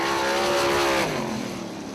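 A 410 sprint car at the 34 Raceway roars past loud and close, its engine note holding high then dropping and fading as it moves away down the track.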